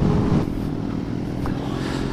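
Road traffic around a motorcycle ride near the beach, a steady broadband engine and wind rumble with a brief louder surge at the start, continuous and close.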